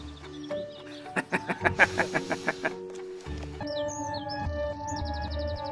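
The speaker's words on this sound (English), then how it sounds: "Yeah, the same birds, the same ones we heard in the dream." A rapid run of about ten bright bird chirps, followed by higher warbling calls over a low background hum.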